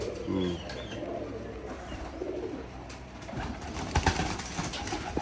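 Pigeons at a pigeon farm, mostly tumbler-type pigeons, coo softly and low, with scattered chirps and other bird sounds nearby while people talk in the background.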